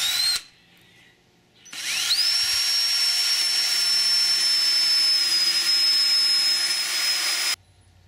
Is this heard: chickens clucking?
no